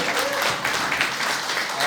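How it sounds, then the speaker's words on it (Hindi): A conference audience gives loud applause for a speaker called up to the stage, a steady wash of clapping running throughout under a voice on a PA. "एक बार जोरदार ताली सौमित्र को।"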